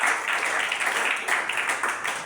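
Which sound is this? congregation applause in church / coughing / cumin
congregation applause in church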